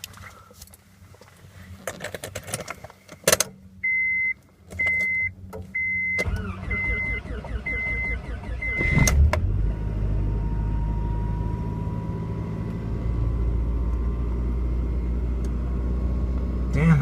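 A 1996 Honda Accord is cold started. Electronic dash chimes and clicks come first, then the starter cranks briefly and the engine catches into a loud, rough, steady idle that runs to the end.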